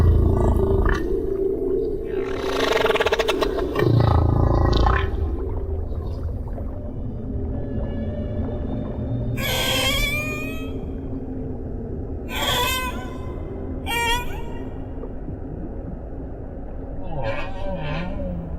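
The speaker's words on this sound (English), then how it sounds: "humpbacks have been singing their extraordinary, complex songs for millions of years" Humpback whale song: long moans, rising and falling whoops and squeals in repeated phrases, echoing underwater with a low rumbling background and some spaced pauses.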